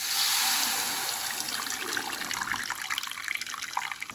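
Water drained from cooked lentils pours and trickles steadily, splashing as it drains, gradually thinning to lighter dribbles.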